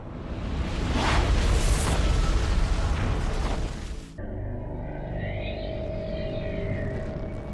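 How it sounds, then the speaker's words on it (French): A loud, roaring blast with a rumbling low-end burst that sustains for several seconds, then cuts to a softer, shimmering electronic drone. "l'explosion d'une supernova"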